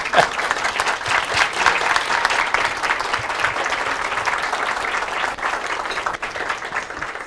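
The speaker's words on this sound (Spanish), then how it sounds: "amerita un gran aplauso para el doctor Gutiérrez" Sustained applause from a conference audience honoring Dr. Gutiérrez after his talk on chikungunya, a steady dense wash of clapping at full strength throughout, dipping slightly near the end.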